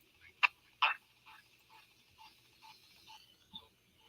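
Auto blend output from a paranormal spirit box device blending six channel banks, heard as two sharp clicking bursts followed by a string of short, faint, choppy syllable-like fragments at an uneven rhythm.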